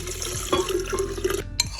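Soaked sesame seeds and their soaking water splash and gurgle as they are poured steadily into a blender, close and continuous with no talking.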